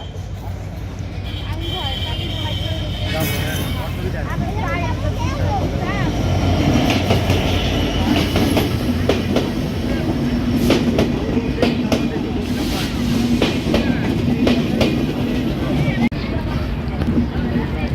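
The Khulna-to-Dhaka intercity Chitra Express rolls into Alamdanga station, a loud steady rumble with rhythmic clatter from the wheels, while station crowd noise and voices carry underneath.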